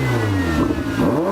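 A Ferrari 488 GTB engine revs hard through a titanium exhaust, its deep growl climbing and falling in pitch, loud and close with a sharp rasping exhaust tone.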